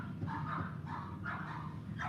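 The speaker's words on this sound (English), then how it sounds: "I don't know what's going on with those dogs." Several dogs barking in repeated bursts from some distance, steady rough calls over a low constant background hum.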